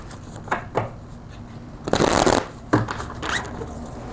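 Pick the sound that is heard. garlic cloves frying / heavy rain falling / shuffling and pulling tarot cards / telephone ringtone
shuffling and pulling tarot cards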